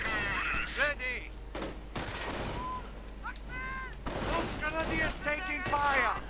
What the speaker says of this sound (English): Mortar firing away.